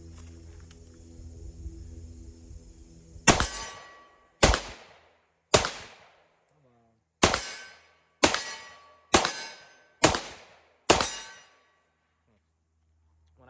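Colt Delta Elite 10mm pistol firing SIG ammunition: eight loud, sharp shots at slightly uneven intervals, each ringing briefly, after a quieter stretch of low background noise.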